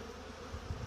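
Honeybees make an orientation flight near their hive after a long spell of bad weather, a continuous low droning buzz from many insects that swells slightly toward the end.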